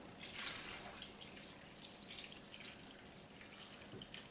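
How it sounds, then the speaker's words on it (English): Water pours from a measuring cup over meat in a pot for PA Dutch schnitz un knepp in a home kitchen, a steady splashing trickle that lasts several seconds with no talk over it. "we're going to add some water just to cover the meat"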